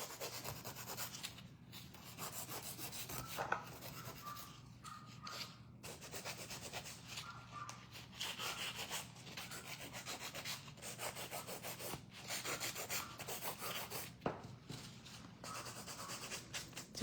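A nail file rasps against a nail in short, repeated strokes, soft and close, with brief pauses between bursts of rubbing.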